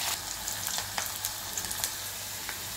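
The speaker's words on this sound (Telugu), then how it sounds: "ఇలా ఆనియన్స్, కరివేపాకు వేసాను, ఇలా వేయించుకున్నాము." Chopped onions and curry leaves frying in hot oil for a dal tempering, a steady close sizzle with small crackles and pops throughout, no talking.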